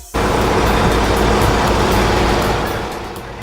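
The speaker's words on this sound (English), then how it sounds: "Amongst the trucks trying to get through" Loud, close rumble of heavy trucks and road traffic at the South Africa–Botswana border crossing, a broad continuous roar that fades slightly toward the end, with no talk.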